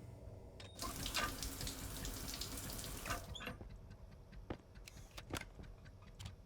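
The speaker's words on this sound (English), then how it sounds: "And let's do one final shower." Shower water running in the space survival game Stationeers: a steady, loud hiss of spraying water lasting a few seconds, then cutting off, followed by scattered faint clicks and taps.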